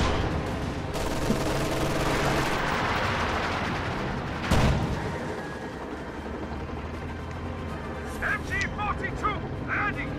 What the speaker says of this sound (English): Artillery barrage ready to fire.